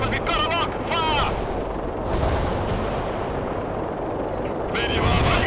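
Battlefield gunfire and artillery from the World in Conflict strategy game rumble as a dense, continuous barrage, with urgent radio voice lines layered over the start and end.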